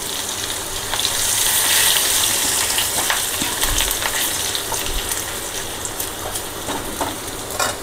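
Chopped garlic goes into hot oil already holding cardamom, cloves and cinnamon, giving a steady loud sizzle and crackle with occasional clinks of stirring and no talking.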